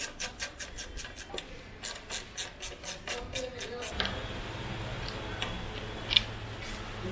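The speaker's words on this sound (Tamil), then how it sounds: "இந்த ஸ்க்ரூ சைட்லேருந்தே நம்ம கழட்டிக்கலாம்" A screwdriver removes the windshield screws from the side of a Hero XPulse 200 motorcycle, first as a steady run of sharp close ticks, then fading into a softer scraping handling noise with no talk.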